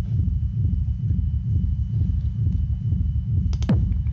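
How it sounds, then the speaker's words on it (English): Booming reverb rumble kick sub bass built in Ableton for techno, soloed, rolling as a continuous low pulsing throb with a few faint clicks near the end. "how to make a reverb rumble kick, which is like a booming sub bass made by reverb in the kick"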